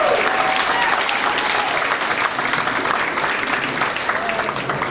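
A comedy club audience claps and cheers for a stand-up comic, with sustained, dense applause filling the whole stretch at a steady level.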